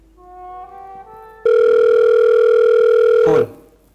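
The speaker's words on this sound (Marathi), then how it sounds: "फोन" A telephone rings in an office after a soft tonal lead-in: one loud, steady electronic ring lasting about two seconds, then it cuts off abruptly.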